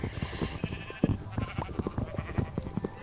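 Sheep in the Minecraft video game bleat in short repeated calls over busy game sounds and clatter, a steady stream of small bursts throughout.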